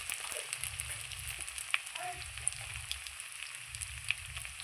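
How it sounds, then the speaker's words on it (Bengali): Elephant foot yam pieces seasoned with salt and turmeric fry in a pan, a continuous close crackling sizzle with small pops scattered throughout and no voices. "ভাজতে ভাজতেই আমার ওলটা সেদ্ধ হয়ে যাবে, লাল করে ভেজে নেব।"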